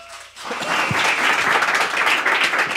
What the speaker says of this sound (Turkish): Alkış bile aldık.